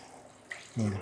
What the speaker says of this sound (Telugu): ఇప్పుడు దీంట్లో కొన్ని వాటర్ వేసేసుకుందాం